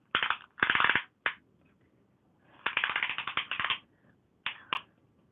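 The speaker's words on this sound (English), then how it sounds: "get me tape measure out" A metal tape measure pulled out in short bursts, with ratcheting, clicking rattles in several separate pulls and brief pauses between them, close and clear.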